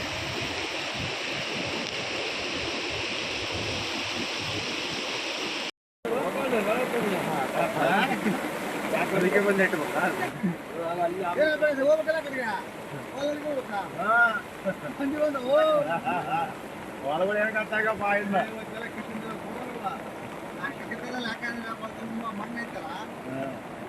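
Fast-flowing floodwater after heavy rain in Ballari rushes with a broad, steady roar, then continues more unevenly beneath people talking nearby.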